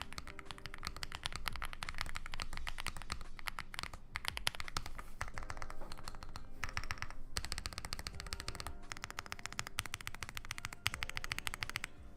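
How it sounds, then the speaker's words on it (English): Rapid, continuous typing on a custom mechanical keyboard, dense clacky keystrokes with brief pauses, close and clear with no talking. "We can give this one a little typing test for you."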